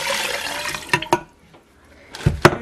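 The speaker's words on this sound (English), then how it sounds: "Then it says to put in your 4 cups of water." Four cups of water pour into a pot of chicken and carrots in a kitchen, a splashing stream at first, then a few sharp splashes and sloshes with a brief quiet gap before a final burst.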